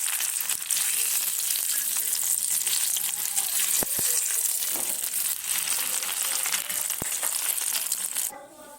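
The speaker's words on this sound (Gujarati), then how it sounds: "હવે આમાં થોડું તેલ છે તો એમાં આપણે પનીરને શેકી લઈશું" Paneer fries in oil in a pan for palak paneer, a steady close hiss and sizzle with a few sharp clicks of the pan, ending abruptly.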